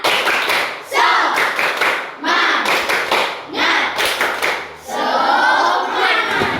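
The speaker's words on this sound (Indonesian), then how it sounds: "Tepuk semangat." A classroom of students performs a rhythmic spirit clap in bursts of quick, loud, synchronized hand claps, with a few short pauses between rounds and a brief spoken voice near the end.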